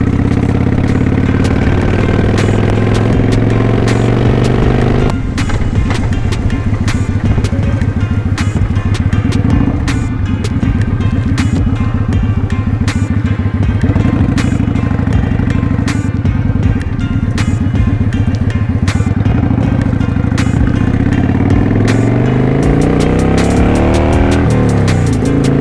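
A motorcycle rides a bumpy back road, its engine droning loud and steady throughout with rattles and clatter from the rough surface, and a rising pitch near the end as it speeds up.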